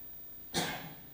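A single short sneeze bursts out in a quiet press-conference room during a college football media day, sharp and close, with nothing else sounding around it.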